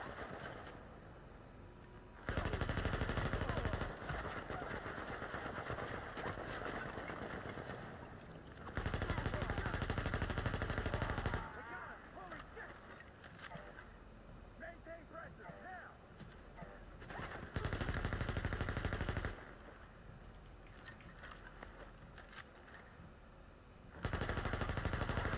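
Gunfire from The Division: sustained automatic weapon bursts, loud and dense, coming in long blocks separated by quieter stretches of ambient combat noise.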